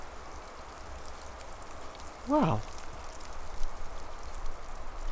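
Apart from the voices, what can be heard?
pine needles showering down like rain in a breeze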